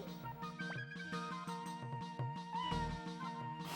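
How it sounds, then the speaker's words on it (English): A short cat meow plays as a menu confirm sound in the role-playing game Suikoden, set against steady melodic game music. "So confirm sound is a meow."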